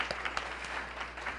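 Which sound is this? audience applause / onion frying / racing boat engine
audience applause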